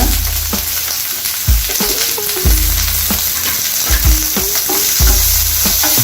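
Onions frying in a pan for mutton chukka, with a steady loud sizzle throughout and repeated scraping and stirring strokes over it; no speech.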